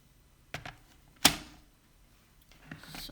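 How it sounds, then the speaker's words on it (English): A paper trimmer cuts card stock, producing a few short, dry slicing and clicking sounds at close range in a quiet room, with one sharper snap in the middle. "So I'm going to use my trimmer to cut that."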